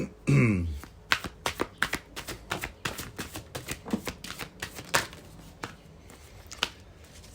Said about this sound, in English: So let's shuffle a few more Liffruma cards.